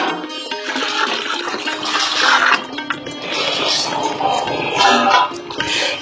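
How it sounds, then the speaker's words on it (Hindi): Five to ten litres of liquid cow urine are poured into a mix of cow dung dissolved in water for cow-based farming, producing a loud, continuous, close gushing and splashing pour. "फिर बाद में हम उसमें गोमूत्र डालते हैं 5 लीटर से 10 लीटर तक।"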